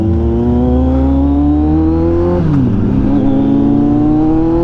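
A Kawasaki Z1000R motorcycle engine revs loudly and close, its pitch climbing steadily, then dipping on a downshift near 3,000 RPM before building again.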